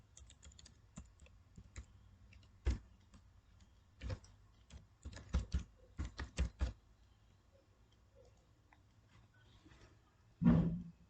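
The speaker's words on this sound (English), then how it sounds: "I am typing the address of my friends." Keys tapped on a computer keyboard while an email address is typed into Gmail, heard as scattered soft clicks and short bursts of keystrokes, quiet and close, with one louder thump near the end.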